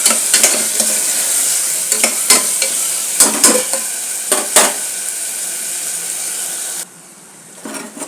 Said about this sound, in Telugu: టమాటాలు, పచ్చిమిరపకాయలు, కొంచెం బిర్యానీ మసాలా వేసాను